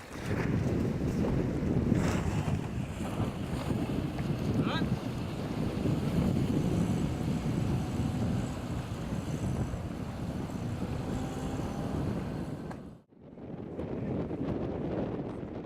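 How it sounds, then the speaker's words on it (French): Wind rushing past while sailing a Weta trimaran on the Étang du Ter lake in Lorient, a steady buffeting blow with water noise that drops out briefly near the end. "le vent a molli un petit peu, ce qui fait qu'en fait c'est carrément drôle quoi"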